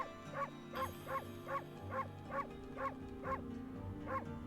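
Cartoonish dog barks from a Pokemon video game, about nine evenly spaced yips repeating in a steady rhythm over a soft background music bed, moderately quiet and with no talking.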